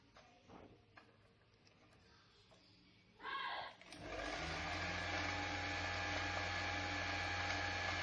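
An Usha sewing machine winds thread onto its bobbin. After quiet handling noises, a steady motor whir starts and holds at a constant pitch near the listener, with no talking.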